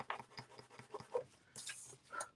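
A white pencil-end eraser rubbing out a faint pencil mark, heard as short scratchy rubbing strokes in quick succession, close up and quiet, with no speech.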